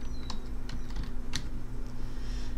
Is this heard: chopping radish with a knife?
no